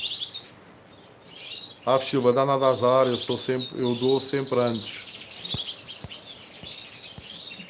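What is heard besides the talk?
bird chirping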